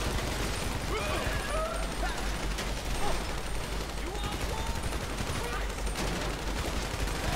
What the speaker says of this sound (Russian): Блин, там сзади стреляют.